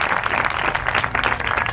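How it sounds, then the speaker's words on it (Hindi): A worship congregation claps for Jesus in a lively church service, loud and dense clapping with a steady, pulsing rhythm and crowd ambience throughout. "Clap your hand for Jesus."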